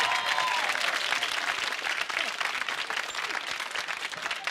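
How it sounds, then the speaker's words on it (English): A television game-show studio audience breaks into sustained, dense applause that stays loud throughout, with some speech faintly mixed in beneath the clapping. "Give him a round of applause, can you?"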